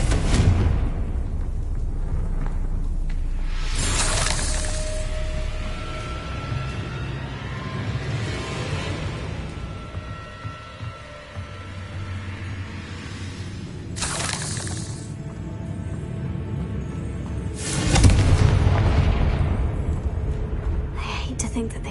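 Confringo fire-blast spells go off in Hogwarts Legacy as several sharp bursts spread over the stretch, with a bigger booming blast near the end, all under a steady game background and voice.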